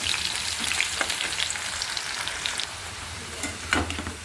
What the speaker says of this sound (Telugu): మిగతా వాటిని కూడా ఇలాగే చక్కగా ఆయిల్లో డీప్ ఫ్రై చేసేసుకోవాలి